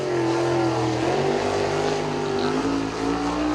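A USAC Silver Crown race car at Selinsgrove Speedway runs down the back straightaway during qualifying, its engine a steady, loud continuous drone with shifting pitch throughout.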